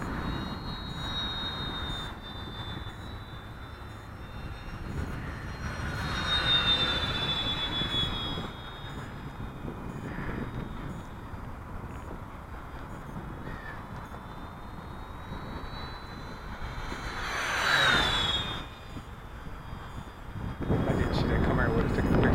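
An Eleven Hobby F8F RC plane with quiet brushless motors flies overhead with a thin, high whine that drifts and swells as it passes, while a crow caws and people talk nearby.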